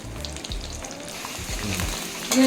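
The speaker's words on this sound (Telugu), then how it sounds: "ఇలా వేగితాయండి." Taro (arbi) pieces deep fry in oil with a steady close sizzle, broken by occasional stirring scrapes and a brief sharper clink near the end.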